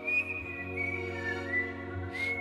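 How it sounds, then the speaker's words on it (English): A lone whistler in a bedtime story carries a wavering, high melodic tune over a soft sustained background hum, gentle and unbroken. "If only Skydonk would stop whistling."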